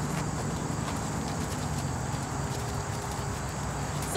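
A horse walking under saddle during a lateral flexion riding exercise, hooves clip-clopping steadily in an even rhythm, moderately loud over constant outdoor background noise.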